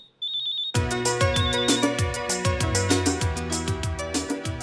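A mobile phone plays a melodic ringtone loud and near after a short electronic beep, a repeating rhythmic tune with a steady beat and no voices.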